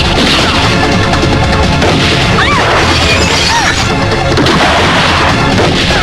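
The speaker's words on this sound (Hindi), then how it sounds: "यहाँ चारों तरफ गोलियां चल रही हैं" Gunfire in a Hindi film scene: loud, dense crashing shots and booms fill a continuous battle din, with brief cries heard through it.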